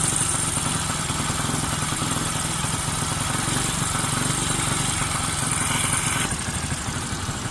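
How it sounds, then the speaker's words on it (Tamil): Bajaj Pulsar motorcycle with its carburettor being adjusted, engine idling steadily at close range with a continuous mechanical chug and rattle, the idle speed easing down slowly, with no talk. "இப்போ பார்த்தீங்கன்னு சொன்னால் மெதுவாக ஐடில் ஆர்பிஎம் குறையும், கொஞ்சம் கொஞ்சமாக குறைஞ்சி வரும்"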